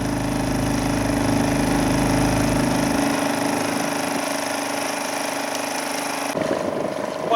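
A motorboat engine drones steadily on the water around Havergate Island near Orford, Suffolk, a continuous low rumble that shifts in tone partway through as the throttle changes.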